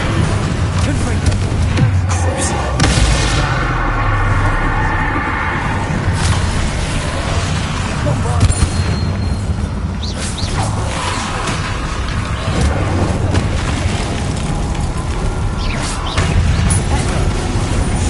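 Blasting-spell explosions from the Hogwarts Legacy video game, repeated loud booms and crashes with whooshes and rumbling debris, continuous and dense throughout.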